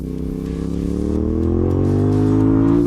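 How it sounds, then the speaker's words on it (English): An F.B. Mondial Piega 452 motorcycle engine revs steadily upward, its pitch climbing smoothly over a few seconds, loud and close with no talking. "with this engine, feel how it sings"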